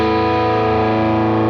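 A heavily distorted electric guitar through the lead channel of a Tone King Imperial MKII amp plugin holds a thick, buzzing sustained chord, loud and steady with no talking.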